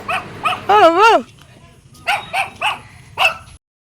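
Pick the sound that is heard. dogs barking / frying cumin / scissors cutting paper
dogs barking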